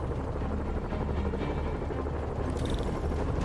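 A helicopter in the Spider-Man video game whirs with a steady rotor drone that runs continuously at moderate loudness, with a brief higher tone near the end.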